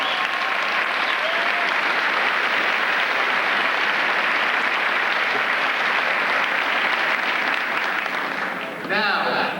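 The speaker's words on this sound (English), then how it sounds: "A round of applause" An audience at a college graduation ceremony applauds warmly, sustained dense clapping filling the hall for several seconds before it begins to thin out near the end.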